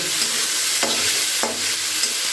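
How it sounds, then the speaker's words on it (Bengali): Garlic and onions fry in a pan with a loud, close, continuous sizzle, punctuated by a few scraping stirs of a spatula against the metal; no voices. "রসুনগুলোকে একটু বেশ ভালো করে ভাজা ভাজা করে নিচ্ছি পেঁয়াজগুলোকেও দিয়ে দিচ্ছি"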